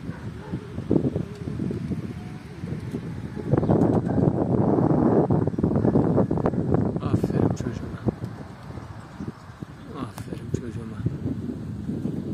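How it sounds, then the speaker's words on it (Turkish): Strong wind gusts steadily across an open rooftop loft where tumbler pigeons are flown, roaring and buffeting the microphone for about twelve seconds, with faint bird sounds and light rustling mixed in. "Rüzgarımız sağlam esiyor."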